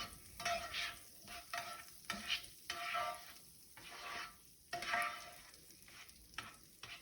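Butter melts in a pan on the stove for scrambled eggs, giving a soft, steady sizzle with scattered louder bursts and the odd scrape of a utensil, close and with no talking.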